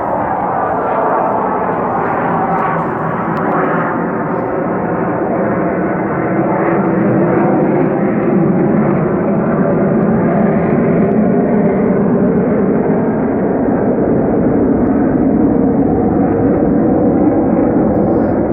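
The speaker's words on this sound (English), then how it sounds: "I'll wait for this plane to go by" A loud, continuous roar of an airplane passing overhead fills the whole stretch, a broad steady rumble that swells slightly midway and holds without pause.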